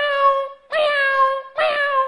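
A mimicry artist at a film audio launch imitates a cat with three drawn-out, clear meows in close succession, loud and near, each a rising-falling harmonic cry; no other voices intrude.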